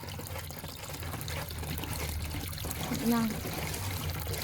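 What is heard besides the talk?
water being poured for DIY dishwashing liquid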